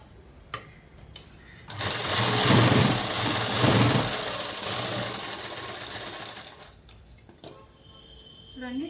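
A sewing machine stitches tucks on a collar neck dress in one sustained mid-length run of busy mechanical whirring, with a few clicks and handling knocks before and after, close and fairly loud.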